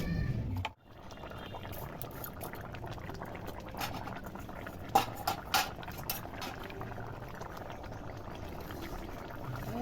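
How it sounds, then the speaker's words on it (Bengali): Village-style rohu fish curry with potato simmers and bubbles in water in a pot, a soft continuous boiling hiss with a few louder pops and clinks partway through, quiet and without speech. "এবারে মাছগুলোকে দিয়ে জলটা একটু ফুটতে দেওয়া হবে"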